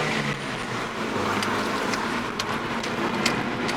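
Steady engine drone and road noise from a Toyota Celica T23 while driving, a constant mid-level hum with faint ticks and rattles on top, no talking.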